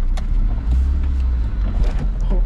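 An RT4WD Honda Civic wagon on the move, heard from inside as a steady, loud low engine and road rumble with no break and no talk.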